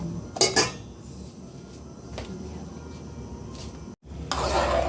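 Sticky rice cooking in coconut milk is stirred in a pot with scraping, knocking strokes and two sharp clanks early on, over a faint sizzle. A brief cut follows, then louder scraping resumes.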